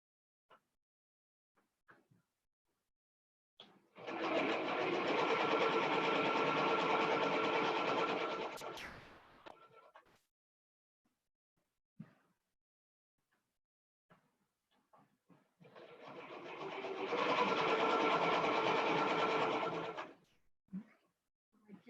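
A domestic sewing machine stitching fabric along an elastic edge runs in two steady, buzzing bursts of about five seconds each, separated by quiet handling clicks and rustles.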